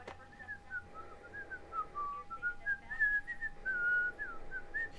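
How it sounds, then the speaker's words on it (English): A person in Max Payne whistles a wandering, meandering tune with sliding pitches, heard clearly at moderate distance over a faint steady hum, with no talking. "where'd that whistling come from?"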